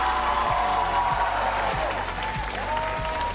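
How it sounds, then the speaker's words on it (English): Crowd applause fills a Valorant esports arena as Fnatic take the stage, a dense, steady wash of clapping that is loud and sustained, with a low rhythmic thump pulsing beneath it. "A rapturous applause for Fnatic as they take their place on the stage"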